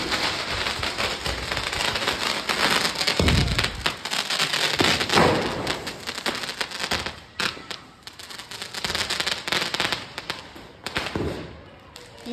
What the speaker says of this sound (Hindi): अब हम जा रहे हैं पटाखे चलाने